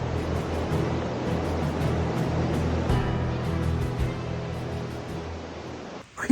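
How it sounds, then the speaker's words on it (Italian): Distant roar of the Lares waterfall in Val Genova, Trentino, heard as a steady broadband rush that holds level throughout, with a brief louder bump right at the end. "Qui in lontananza sento il fragore della cascata"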